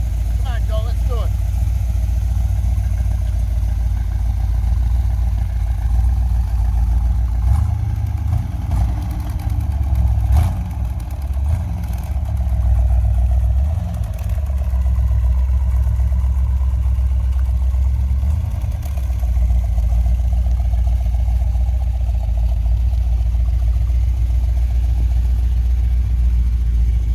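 A car drives steadily along a country road, its low engine drone and road rumble constant and fairly loud throughout, with slight swells in pitch and a voice speaking briefly over it.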